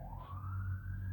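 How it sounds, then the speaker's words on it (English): An ambulance siren wails in one steady, rising sweep, fairly loud and close against a low rumble of traffic, with no voices over it. "I know you can hear the ambulance"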